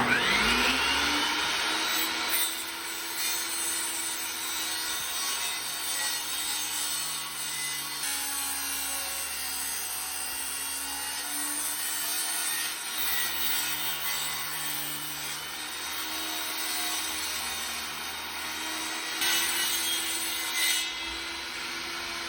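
Freehand sawing of wood on an old 1960s wooden step ladder being modified, a steady continuous rasping cut running close and loud throughout with a low engine-like hum beneath and no talk.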